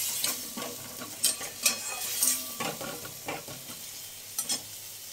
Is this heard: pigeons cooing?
no